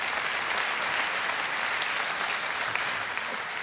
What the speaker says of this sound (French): En fait, ça applaudit à droite, là.